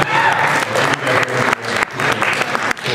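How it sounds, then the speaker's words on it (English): Audience at a ScrewAttack convention panel at MAGFest XI bursts into loud, sustained applause, dense clapping filling the room for a few seconds with a few cheers mixed in. "Big round of applause for this guy."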